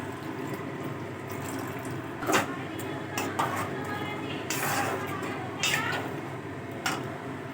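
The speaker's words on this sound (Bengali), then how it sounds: "আমি এবার নারকেলের দুধটা দিয়ে দিচ্ছি" Coconut milk pours into a pan of Bengali sukto, a soft liquid trickle under kitchen clatter, with a few sharp utensil clinks and a voice speaking in the background.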